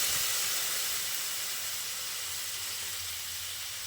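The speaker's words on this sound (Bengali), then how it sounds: "এবার আমি এর মধ্যে দিয়ে দিচ্ছি পরিমাণ মতো জল" Water added to a pan of potato and egg curry gives a loud, continuous steamy hiss and sizzle that fades slowly over a few seconds.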